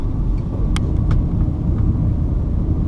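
Ford Mustang GT V8 engine giving a deep, steady low rumble, heard close and continuous with a few faint clicks on top and no voices.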